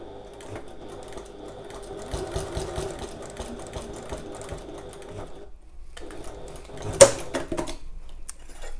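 A sewing machine stitches a strap for a messenger bag, with rapid mechanical chattering in bursts, a brief pause, then a sharp clack before the stitching resumes, close and moderately loud with no talk.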